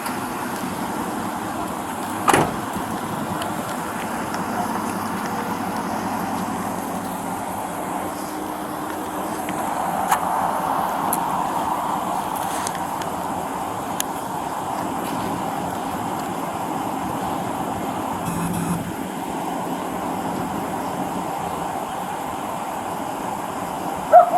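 A truck engine idles in a steady, low rumble that hums on without change for over twenty seconds, with no talking over it.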